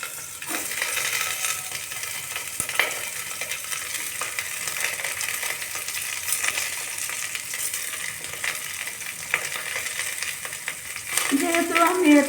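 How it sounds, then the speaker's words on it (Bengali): Potatoes and capsicum fry in oil inside a pressure cooker, giving a continuous close crackling sizzle with occasional stirring clinks, and the sizzle swells louder near the end. "ক্যাপসিকামটা দিয়ে দিচ্ছি"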